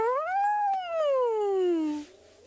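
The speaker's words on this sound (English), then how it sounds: "Can you hear that hyena?" A single far-off spotted hyena whoop rises and then glides slowly down in a long, siren-like wail, ringing clearly over quiet night air in the South African bush.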